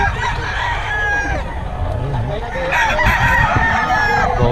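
Roosters at a poultry market in Nueva Ecija crow loudly and repeatedly, backed by clucking fowl and the murmur of people talking nearby.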